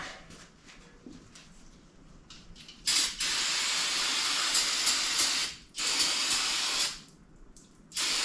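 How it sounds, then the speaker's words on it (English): Brake cleaner sprays from an aerosol can onto parts of a 1982 Ram Charger, loud hissing bursts of several seconds separated by short pauses, close to the mic. "hit this with the what's left of the brake cleaner."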